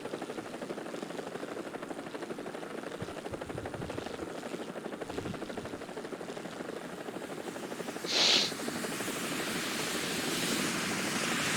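Alouette helicopter in War Thunder, a continuous rotor and engine drone with a steady rhythmic chop heard from a distance, growing slightly stronger toward the end, with a brief sharp burst partway through.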